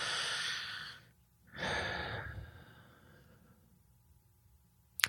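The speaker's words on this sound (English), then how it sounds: "Nice deep breath." A slow, deep breath in and out, then a second long inhale and gradual exhale, heard up close in a quiet room with no talking.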